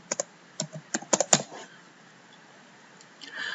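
Typing on a computer keyboard: a close, quick burst of crisp key clicks in an uneven rhythm, followed by a quieter pause and then faint rustling.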